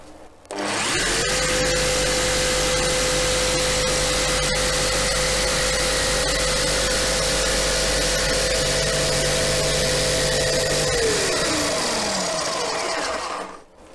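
A Bosch GST 160 BCE jigsaw with its blower switched on cuts steadily through a workpiece, giving a loud, even motor whine and blade buzz that spins up, holds for about ten seconds, and winds down.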